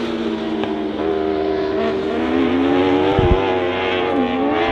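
Stock cars racing the final lap at Honor Speedway, their engines a loud continuous roar with a wavering, shifting pitch as they power around the oval, no voices.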